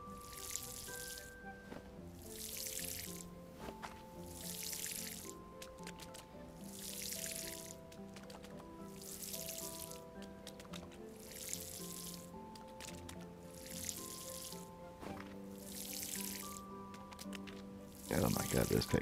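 Crops being watered in the farming game Paleo Pines, a run of regular soft watery bursts repeating about every second and a half over a quiet tonal game soundtrack.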